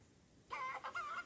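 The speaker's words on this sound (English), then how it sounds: "Is this a chicken farm? I think that's a chicken farm." Chickens cluck in a short burst of several squawky calls on a chicken farm in the Roblox video game, close and fairly loud after a quiet start.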